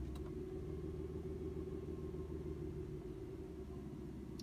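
A Hyundai Santa Fe 2.4L engine idles just after an oil change, a steady low rumble with an even, unbroken level and no talking over it.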